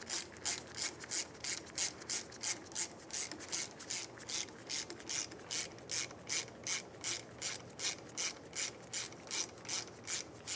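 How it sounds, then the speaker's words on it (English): A ratchet snugs the front brake hose fitting into the caliper of a 1998-2002 Lincoln Navigator: a steady run of about two dozen crisp, close ratcheting clicks in even rhythm, with no voices. "Start it in by hand so you're sure it's not cross-threading, and then snug it up."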